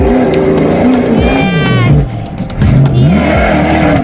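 Ultra4 off-road racing truck engine at Walters Arena in South Wales, loud and close, revving up and down in rising and falling sweeps with a second engine whining higher in the background.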